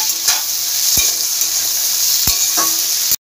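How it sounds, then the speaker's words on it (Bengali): Chopped capsicum and carrot fry in a pan for a vegetarian dalia pulao, giving a loud, steady close sizzle with a few sharp stirring knocks against the pan, then cutting off abruptly at the end. "এটা দিয়ে এবার ভেজে নেব। এটা ভাজা হোক,"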